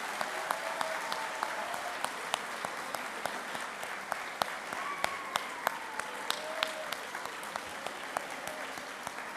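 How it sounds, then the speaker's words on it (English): Sustained, even applause from a crowd greets the author at a book launch for Roshnee 55, steady clapping with sharper nearby claps standing out and faint voices and whoops mixed in underneath. "Put your hands together for the man himself, the author of Roshnee 55"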